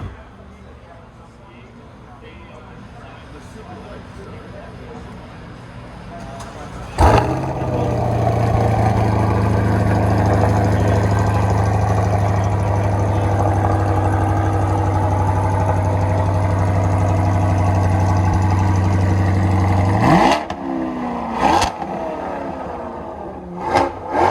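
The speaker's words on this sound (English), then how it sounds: "Her new exhaust. Let's let this baby breathe better." A C8 Corvette fitted with a new AWE exhaust fires up with a sharp bark, then settles into a deep, steady idle for about thirteen seconds before cutting off, followed by a few quick revs and clicks.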